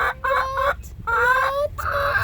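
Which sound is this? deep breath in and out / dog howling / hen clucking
hen clucking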